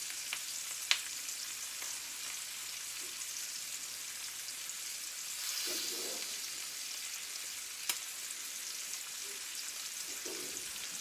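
Seasoned chicken breasts fry in a pan, giving a quiet, steady sizzle with soft crackles and a few small pops and clinks, heard alone at low level.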